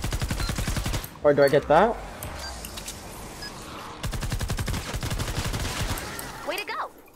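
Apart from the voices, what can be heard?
gunfire shooting zombies in the video game Fortnite Save the World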